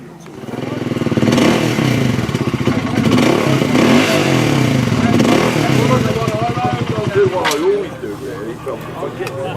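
A BSA Gold Star motorcycle engine runs nearby with a steady, throbbing rumble and some rev changes, while people talk over it throughout.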